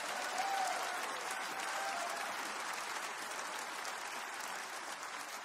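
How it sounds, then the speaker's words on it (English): Church congregation clapping hands in praise during a sermon, a steady, fairly soft field of many hands clapping that holds evenly and eases off slightly toward the end. "Clap your hands and praise the Lord"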